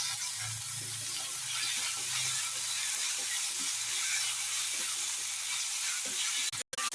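Ginger garlic paste frying in a hot pan, giving a steady, close sizzling hiss that holds for several seconds with faint stirring, then cuts off briefly near the end.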